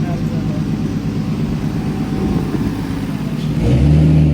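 A turbocharged BMW E46 with a swapped M52B28 inline-six runs on a dyno at wastegate pressure, a loud sustained engine drone that builds and swells louder near the end of the pull.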